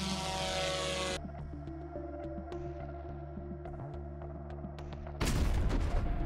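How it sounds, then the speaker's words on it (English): A Russian FPV drone attack on a camouflaged howitzer, heard as a loud buzzing propeller drone with steady harmonic whine, scattered sharp clicks and pops, then a sudden broadband blast of noise near the end, with no talk. "After determining the coordinates, a Russian FPV drone carried out the first attack."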